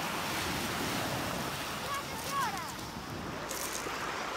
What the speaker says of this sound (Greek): έχω έρθει στη θάλασσα